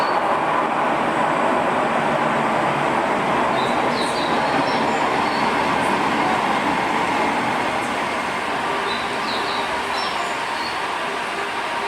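A Tokyo metro train runs with a steady, loud rumble of wheels on rail, plus faint high squeals and clicks throughout, with no voices.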